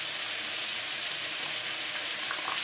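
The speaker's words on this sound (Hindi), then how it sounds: "जब मसाला अच्छी तरह से बन गया तब हम इसमें अपनी सब्जी डाल देंगे।" Ridge gourd and taro hit hot frying masala in a pan, giving a dense, loud, unbroken sizzle that stays steady from start to finish.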